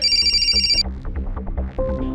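A telephone rings unanswered with repeated electronic ringtone bursts, loud and close, stopping briefly and then resuming near the end, with no talk over it.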